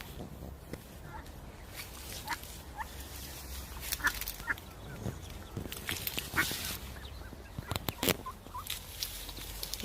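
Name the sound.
wild duck with ducklings in a back garden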